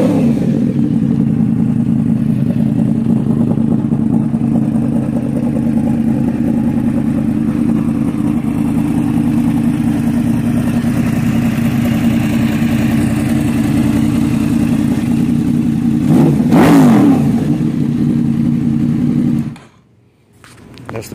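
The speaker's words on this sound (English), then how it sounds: "Let y'all hear this exhaust too." Yamaha R1 sport bike with a Toce exhaust running loud and close: a steady, throaty engine drone with a brief rev spike near the end before it cuts off abruptly, no talk.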